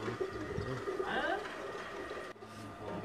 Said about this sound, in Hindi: इसी तरह ये एक और कबूतर है मलक साहब के हाथ में